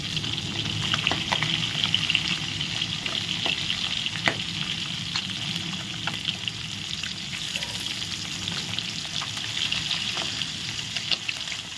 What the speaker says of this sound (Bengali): আমার মাছটাও আবার পরে পাশ ভাজা হয়ে গেল